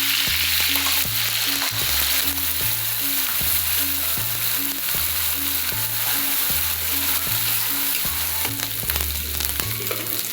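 Masala roasting in a pan for Maharashtrian egg curry, a steady close sizzle running throughout alongside repeated rhythmic scraping strokes of a spoon against the pan.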